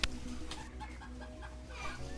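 Broiler chickens about forty days old, kept on a farm, cluck and murmur in a dense, close flock, their overlapping calls forming a constant chatter.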